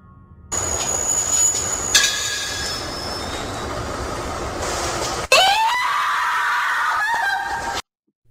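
A female reporter lets out long, shrill, wavering screams in two sustained bursts, loud and close, over a steady background hiss.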